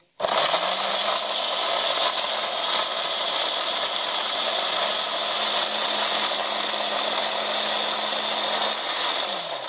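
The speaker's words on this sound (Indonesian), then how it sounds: "Kita blender." A kitchen blender whirs steadily at full speed, blending small tomatoes and shallots with water; the loud, continuous motor drone starts abruptly and runs on alone before easing off at the end.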